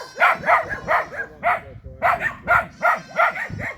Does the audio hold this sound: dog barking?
yes